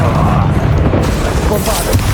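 A Confringo spell blast goes off in the Hogwarts Legacy video game, a loud, dense booming burst that fills the moment with rumbling low-end energy and crackling spread, sustained over about two seconds.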